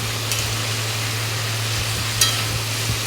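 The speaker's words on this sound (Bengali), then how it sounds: "এবার ভালো করে নাড়াচাড়া করে নেব। দেখতে থাকো, ভালো করে কষিয়ে নিতে হবে।" Soybean curry with ginger being stirred and fried in a pan, a steady low sizzle with occasional soft scraping strokes of the spoon, close and continuous without talk.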